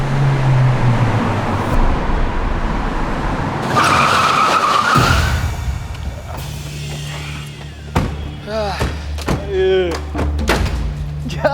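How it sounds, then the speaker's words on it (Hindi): A car driving fast roars past and skids, with a loud tire screech and a thunk, followed by door-like clunks and people talking nearby. "इतनी तेज गड्डी चला के पता नहीं इन लोगों को कहाँ पहुँचना है एक दिन।"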